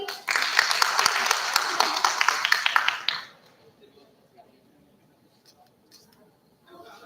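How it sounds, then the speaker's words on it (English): Applause at a felicitation ceremony in an indoor hall, dense clapping from a sizeable audience that holds steady for about three seconds, then stops abruptly, leaving a quiet room with faint stray sounds. "A huge round of applause to him."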